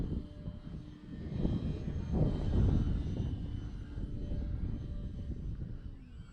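RC airplane in flight, a steady buzzing engine drone that swells and fades as the model passes, moderately distant and alone without talk.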